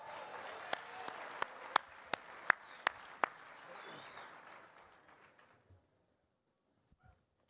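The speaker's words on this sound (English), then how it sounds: "How about a nice hand for Paul Molitor," Applause for Paul Molitor at a gala auction: a few sharp, close hand claps ring out over a softer spread of clapping that thins and fades to silence within about five seconds.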